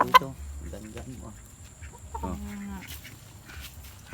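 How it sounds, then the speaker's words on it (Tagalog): Chicken clucking close by in a morning yard, several short clucks and a drawn-out squawk in quick succession, with faint background noise and no talk. "Ayan, oh, ang manok."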